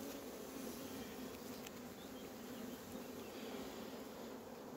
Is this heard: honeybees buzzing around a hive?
yes